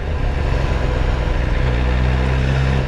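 An Aston Martin drives past on a street with a steady, loud low engine rumble that deepens toward the end as it draws near.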